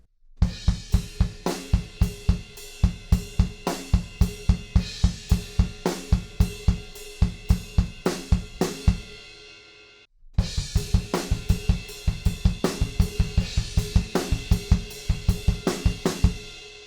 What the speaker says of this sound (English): We're going to play every 8th note on the kick drum, but beat 3 is going to be on the snare drum instead